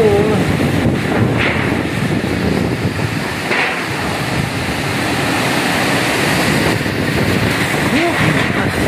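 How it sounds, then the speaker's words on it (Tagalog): Strong wind mixed with rain roars steadily and loudly, buffeting the microphone throughout with a constant rushing wash of noise. "Ang hangin kasabay pa ng ulan."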